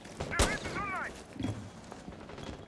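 Gunfire from a TXB Pro Season 4 competitive video game match between Avenger Gaming and Dispatched: one sharp, loud shot near the start, then a few fainter pops, all under continuous excited commentary.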